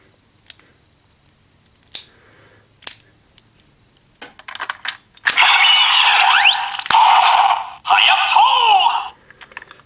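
Ryusoulken toy sword from Kishiryu Sentai Ryusoulger with the HayaSoul inserted: a few sharp mechanical clicks, then loud bright electronic sound effects and chimes from the toy speaker, in three bursts up close.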